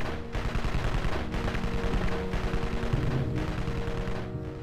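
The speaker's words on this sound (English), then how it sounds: "Kill, these guns have some great range on them" Sentry guns in the game Evil Genius firing in a steady, dense stream of rapid shots, with continuous rattling bursts running the whole time and no voices.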